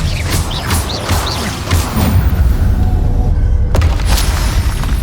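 The Confringo blasting spell explodes in the Hogwarts Legacy video game: a run of loud booming blasts and crashes, ending in one sharp, heavy impact with a rumbling tail.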